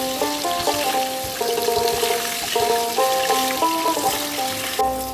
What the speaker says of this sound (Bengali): মাছগুলোকে আমি উল্টে দিয়ে অন্য পাশটাকে হালকা করে ভেজে নেব